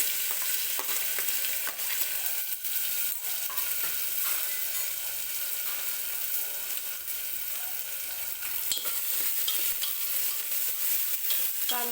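Chopped onion fries in oil with garlic and curry leaves until golden, for a fresh green chickpea curry. A steady, close sizzle runs throughout, broken by scattered clicks and scrapes of stirring.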